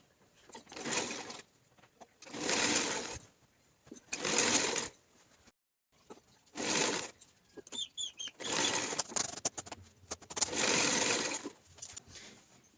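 A sewing machine stitches lace onto a girl's frock, running in several close, steady whirring bursts of a few seconds each with brief pauses between, and no talking.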